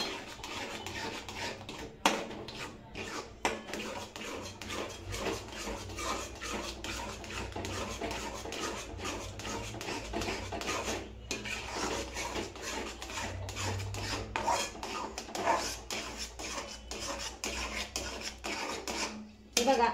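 Thapi vadi batter being mixed by hand in a bowl, a continuous close scraping and rubbing with occasional clinks against the vessel, steady for the whole stretch with no talking.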